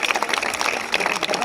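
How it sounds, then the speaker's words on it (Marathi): A crowd of schoolchildren, village police officers and local residents claps in welcome at a Police Raising Day week event at Kankavli police station, Sindhudurg; dense, steady clapping fills the short moment with no voices. "त्यांचंही सर्वांनी टाळ्या वाजवून स्वागत करायचं।"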